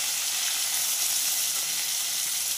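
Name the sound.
lote (Bombay duck) fish frying in pan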